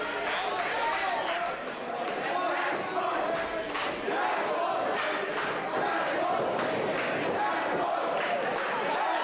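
Loud, steady crowd roar from a wrestling video game match, a dense wash of cheering and yelling that holds throughout, with scattered thuds and impacts rising through it.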